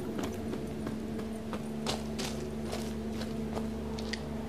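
A horse's hooves clip-clop at a steady walking pace in The Witcher video game, evenly spaced thuds over a constant low background hum.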